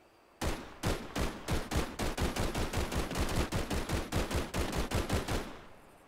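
Rapid gunfire in the Bigfoot video game, fired at the monster: about twenty loud, evenly spaced shots in a steady burst lasting several seconds, alone with no talk.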